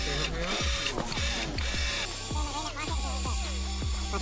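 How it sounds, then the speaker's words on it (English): RC crawler winch motor on an SCX6 scale crawler pulling steadily, a loud, close, high whirring drone with repeated pitch sweeps. "grab him with the winch"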